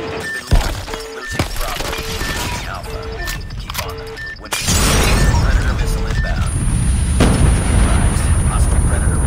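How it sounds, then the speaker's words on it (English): A Predator missile strikes in Call of Duty Mobile: beeping tones and scattered shots lead into a sudden loud explosion about halfway through, followed by a sustained roaring, crackling blast. "Predator missile inbound"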